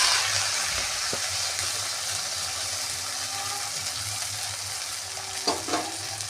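Oil sizzles and hisses steadily in a pan as black cumin, ground spice paste and leafy greens fry, with a couple of soft stirring clatters near the end.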